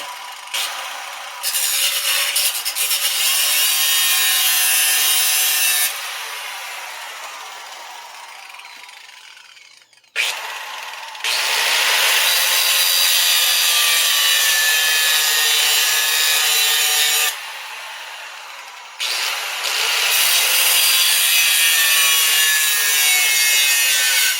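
A hand saw cuts wood to free the hinges from an old front screen door, in long, loud, close sawing bursts of steady back-and-forth strokes, separated by a few brief pauses.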